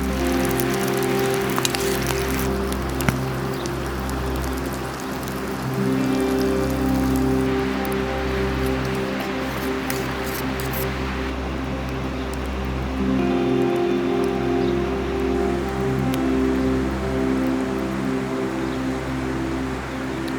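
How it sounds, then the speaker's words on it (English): Steady rain falls on a wild camping trip for trout fishing, a continuous dense patter that never lets up, with a low hum underneath and no talking. "It's raining all through that cooking session"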